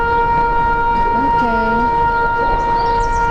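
A Shabbat siren in Jerusalem holds a steady, sustained tone at a constant pitch over a faint, wavering rising-and-falling sound, with low background rumble and no clear speech.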